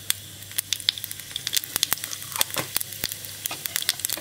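Asafoetida dropped into hot oil for tempering a Bihari-style chana saag sizzles with steady close crackle and sharp popping spatters, a continuous frying hiss running throughout with no talk.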